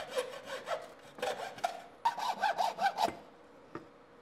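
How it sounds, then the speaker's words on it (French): Close, rasping strokes of a fine-tooth saw cutting through a wooden parquet floorboard, a quick run of back-and-forth strokes that stops, then one last short scrape. "tu découpes avec une scie à fines dents la lame dans l'espace le plus court"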